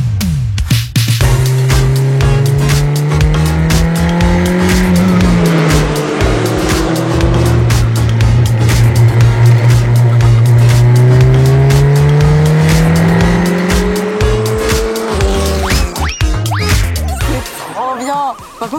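Race cars lap a circuit during the first session of a GP Explorer event, loud close engines rising and falling in pitch with gear changes, tire noise and cars passing, with voices faintly present.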